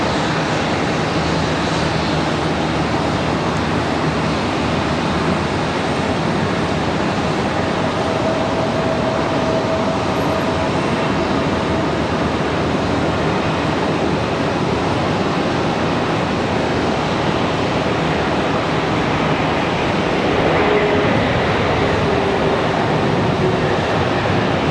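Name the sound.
Lufthansa jet airliner at Charlotte Douglas airport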